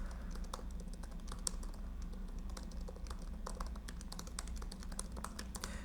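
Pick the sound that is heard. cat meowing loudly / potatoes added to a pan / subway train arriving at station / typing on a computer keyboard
typing on a computer keyboard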